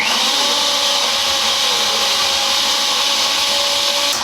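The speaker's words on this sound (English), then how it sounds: "I'm still trying to figure out how to use this blender. It's new for me." Kitchen blender whirring while blending a vegetable molé, a loud, steady, high-pitched motor whine with a grinding texture running continuously throughout, with no talking.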